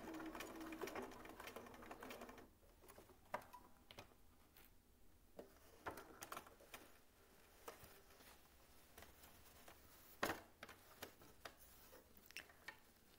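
A sewing machine stitches a seam along piping parallel to the fabric edge, sounding faint and intermittent, with short bursts of running and scattered ticks and clicks in between.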